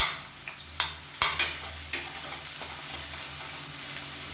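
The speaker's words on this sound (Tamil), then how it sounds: "இதோடவே ஒரு 15 முந்திரி பருப்பையும் சேர்த்து நல்லா வறுத்துக்கலாம்." Cashew nuts frying and being stirred in a pan as a tempering for chicken sukka varuval, with a steady close sizzle broken by a few sharp scraping stirs.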